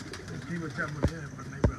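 Pigeons coo under ongoing talk, with two sharp wing claps standing out near the end.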